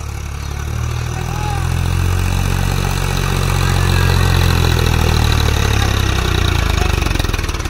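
A Mahindra or Swaraj tractor engine idles with a loud, steady low rumble close by, outdoors with a trolley hitched, holding an even chugging beat throughout.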